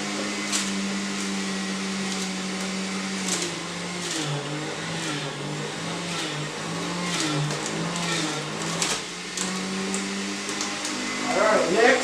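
Juicer machine running while juicing kale, a loud continuous motor whine with a droning pitch that dips and wavers as greens are fed through, steady for the full twelve seconds, ending in a rougher grind.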